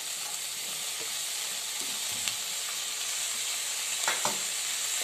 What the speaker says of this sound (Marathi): आपली भाजी मी छान परतून घेतली।